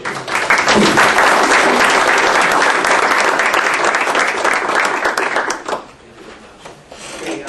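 A board meeting audience bursts into loud, close applause that holds steady for several seconds, then drops off abruptly to a few scattered claps and quiet room noise.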